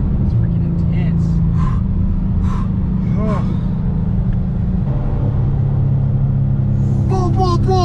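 Miata fitted with a 5.0 engine accelerating hard, a loud steady low rumble heard from inside the car, with excited voices and shouts over it.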